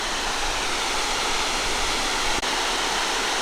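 An off-trail waterfall in heavy flow roars in a steady, loud, broadband rush, unbroken apart from one brief click near the end.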